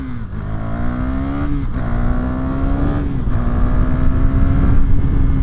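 A 2019 KTM Duke 390 motorcycle accelerates hard, its engine note climbing steadily and then dropping briefly at each of three quick gear shifts, loud and close with no speech.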